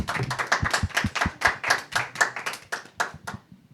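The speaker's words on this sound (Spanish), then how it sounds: "Agradecemos y despedimos a Gabriela Villegas con un fuerte aplauso." A few people clapping in a small studio to bid farewell to a guest on a Christian talk program, a short uneven run of distinct close hand claps that thins out and stops toward the end.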